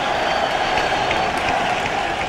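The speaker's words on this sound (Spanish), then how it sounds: "el aplauso emocionado del pueblo congregado aquí en la Plaza de la Revolución José Martí" Massed crowd applause in Havana's Plaza de la Revolución José Martí, a dense, loud, continuous roar of clapping from a huge open-air gathering with no breaks.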